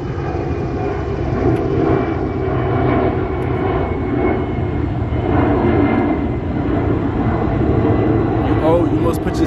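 A propeller airplane drones loudly overhead, a continuous engine hum that swells slightly as it passes.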